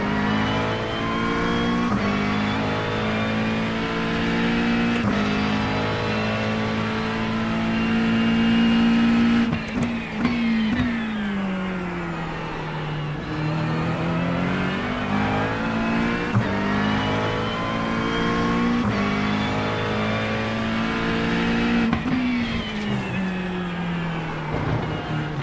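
Several GT3 race cars in an iRacing endurance event at Sebring, including a Porsche and a McLaren, drone steadily and loudly throughout, engine pitch rising and falling as they accelerate, shift and brake.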